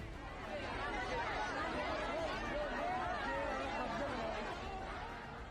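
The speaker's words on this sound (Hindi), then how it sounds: "भीड़ बेकाबू है, कौन कहां किस दिशा में भाग रहा है किसी को नहीं पता।" A huge, uncontrolled crowd at Kubereshwar Dham near Sehore, Madhya Pradesh, produces a dense, continuous babble of many voices and shuffling movement, steady and somewhat distant, with no single voice standing out.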